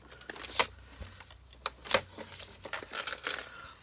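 Cardstock for a gatefold card is scored with a tool, giving short, faint scratchy strokes and papery crinkles spread irregularly across a few seconds in a quiet room.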